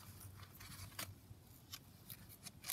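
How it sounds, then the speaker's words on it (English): Scissors snipping twine or ribbon while assembling a handmade journal, several quiet crisp cuts spread irregularly over a low room hum, close but faint, no speech. "Cut that down, get that out of the way."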